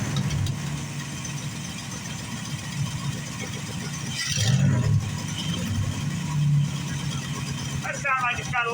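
A 1986 Dodge pickup engine idles roughly after a top-end reseal, a rough uneven rumble with a brief rev surge in the middle. Someone talks over it near the end.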